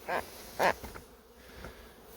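Honey bees buzz around an open hive on a Dartmoor farm, with a couple of louder passes of individual bees flying close over a soft background hum.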